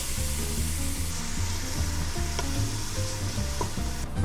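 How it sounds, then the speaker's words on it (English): Onion added to garlic sautéing in oil gives a loud, steady sizzle up close, with faint hums and a few light scrapes underneath. "We're gonna saute this for about 30 seconds. Now we're gonna add our onion."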